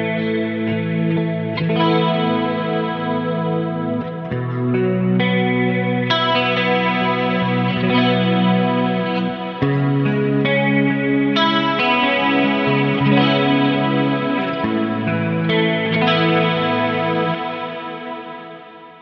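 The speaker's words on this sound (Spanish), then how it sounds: "Con el chorus, y le podés agregar el Big Sky para darle mucho espacio al sonido." Electric guitar run through a chorus pedal and a Big Sky reverb on a pedalboard, with shimmering, wide sustained chords that swell and overlap in a spacious wash, played continuously without speech before fading out at the end.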